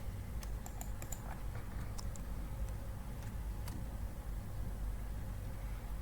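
Quiet, irregular clicking of keys on a computer keyboard as a short search term is typed, with scattered taps over soft background hiss.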